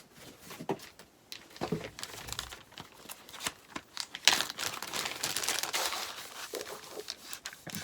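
Plastic baggies crinkle and crumple in close, uneven bursts that swell louder midway, a busy rustle of handling with short pauses and no speech.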